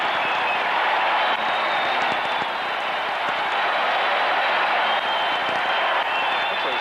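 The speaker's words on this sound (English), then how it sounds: "Listen to the crowd at Texas Stadium." A large stadium crowd at Texas Stadium roars steadily during a Packers at Cowboys NFL game, a loud, sustained wash of cheering and noise heard from a distance.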